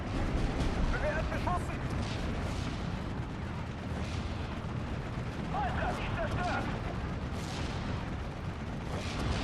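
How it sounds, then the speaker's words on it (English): An off-map artillery barrage in the WWII game Steel Division: Normandy 44 lands on a tree line, a dense, continuous rumble of distant booms and blasts rolling under each other, with speech underneath. "a heavier off-map barrage by the Americans that lands right on the tree line here"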